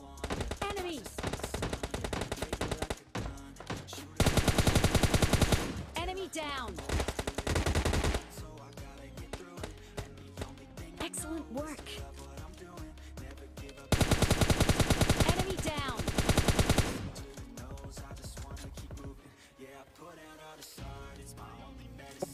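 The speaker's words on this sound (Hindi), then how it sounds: "यहाँ पर हमें एक बंदा दिख जाता है जिसके ऊपर मैं कुछ शॉट्स लेता हूँ" Gunfire in PUBG Mobile Lite, loud rapid bursts of automatic shots in several long volleys, separated by quieter stretches of game sound.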